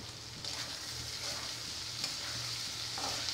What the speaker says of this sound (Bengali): ভাজিটা একটু ভাজা ভাজা হলে নামিয়ে নিব।